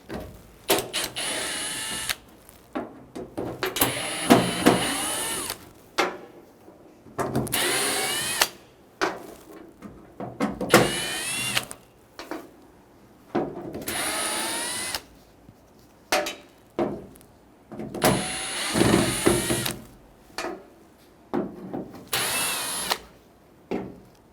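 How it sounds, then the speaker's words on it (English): A power driver backs Phillips head screws out of the inside panel of a 2005-2021 Nissan Frontier tailgate, with repeated short whirring bursts separated by brief pauses, close and moderately loud, with no voices. "remove the Phillips head screws securing this panel to the inside of the tailgate."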